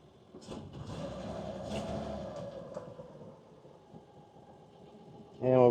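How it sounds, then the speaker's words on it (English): A 1970 Toyota FJ40 Land Cruiser's original 2F straight six starts with a little choke, settling into a steady, close, rumbling idle before a sudden louder surge of revving at the end. "FJ40 Land Cruiser. Here's a startup. Little bit of choke."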